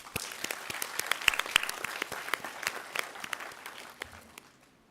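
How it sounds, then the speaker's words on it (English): A small group applauds at a university graduation ceremony, with scattered, uneven claps that build briefly and then thin out and fade away. "congratulate ourselves and those who supported us with a heartfelt round of applause"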